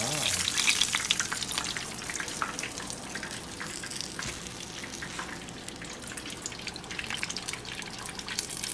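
Shrimp egg rolls deep frying in hot oil make a dense, steady crackling sizzle with scattered pops and spits. The frying sounds close and continues throughout.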